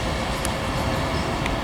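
A Pendolino train pulls out of Birmingham International station on the West Coast Main Line, its loud, steady rumble of wheels and motors close by, with a couple of faint high squeals above the roar.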